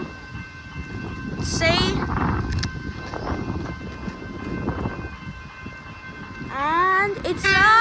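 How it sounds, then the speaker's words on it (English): An EDI Comeng suburban train passes a level crossing on Boundary Road and sounds a horn, heard as a steady rumbling roll with rising horn blasts at the start and end and a voice speaking briefly. "And it's a EDI Commons train."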